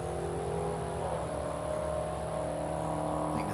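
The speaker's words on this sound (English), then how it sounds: "That's a Dodge. You can hear that a mile away." A Dodge car engine rumbles steadily and loudly nearby, a continuous deep drone with no distinct rise or fade across the few seconds.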